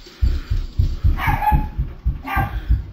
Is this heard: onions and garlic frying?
no